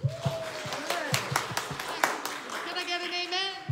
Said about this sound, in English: And then we'll all clap.